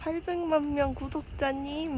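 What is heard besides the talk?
No everyday noise stands out behind the speech.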